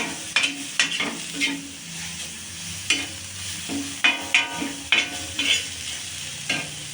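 Tarota leaves go into a pan of browned onions, and the sizzling comes with repeated sharp scrapes and clacks of stirring at an irregular rhythm. The scrapes are close and loud over a softer, steady frying hiss.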